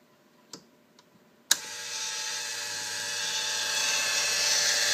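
Dual EFI fuel pumps on a pressure testing jig switch on with a sharp click, then settle into a steady, loud electric whine and hum that holds continuously to the end, preceded by a few faint clicks.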